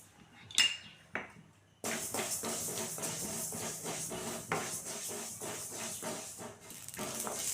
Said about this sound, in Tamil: பாருங்கள், நல்லா படபடன்னு பொரியுது.